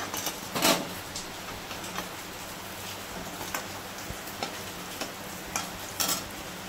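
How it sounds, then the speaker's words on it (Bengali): Dhoka lentil cakes go into pre-heated oil, giving a faint, soft frying crackle with scattered sharp pops and light ticks at irregular intervals. "দেখো আগে থেকে তেল বসিয়েছিলাম, এখন আমি ধোকাটাকে দিয়ে দিচ্ছি।"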